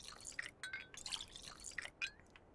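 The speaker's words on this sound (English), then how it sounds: "have a couple bottles to fill up with water" Water trickles and drips into glass bottles being filled in Pathologic 2, soft and close with small clinks of glass between pours.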